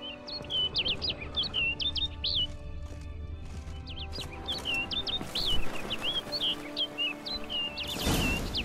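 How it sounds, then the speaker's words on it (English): Birdsong in The Witcher 3: Blood and Wine, a bird repeatedly chirping in quick trilling phrases over a low ambient game backdrop, with a brief rustle near the end. "Looks like the bird's leading me somewhere."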